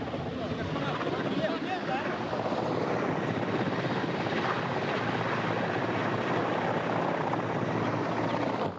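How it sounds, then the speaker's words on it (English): Russian Mi-8 helicopters land around the perimeter of a Soyuz spacecraft landing zone, producing a continuous, rumbling rotor thrum that stays loud and steady, with a voice talking over it. "you can hear in the background the Russian Mi-8 helicopters landing in sequential fashion around the perimeter of the landing zone"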